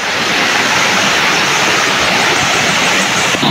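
A waterfall on a river thunders loudly and steadily at close range, a dense unbroken roar of falling water with no voices over it.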